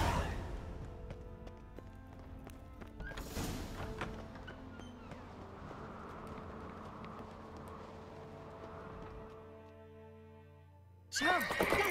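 A horse neighs and whinnies in The Witcher 3 Complete Edition on Nintendo, with loud game sounds, faint background tones and a sharp burst near the end.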